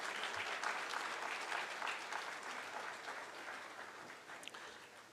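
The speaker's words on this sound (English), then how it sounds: "Let's have a big round of applause to Shri Om Birla, Honorable Speaker of Lok S" A large audience at a corporate governance awards ceremony gives a sustained round of applause for a dignitary, a dense, even clapping that stays steady and then gradually softens toward the end.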